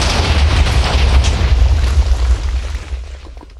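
A Minecraft explosion, a loud deep boom with rumbling, crackling debris that rolls on for a few seconds and slowly fades.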